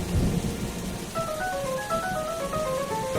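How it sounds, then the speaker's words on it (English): Rain falls steadily in an animated children's story, with thunder rumbling low at the start and gentle tinkling tones rising over the continuous patter. "Suddenly, she felt raindrops falling from the sky."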